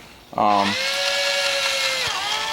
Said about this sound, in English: It's a polyfoam drill bit. It does have an armature in it to hold it true.